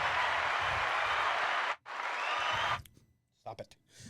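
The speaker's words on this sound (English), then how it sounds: "They just keep cheering." A studio audience applauds and cheers loudly for a returning comedy guest, the crowd noise steady for nearly three seconds before cutting out, then a few scattered claps and voices.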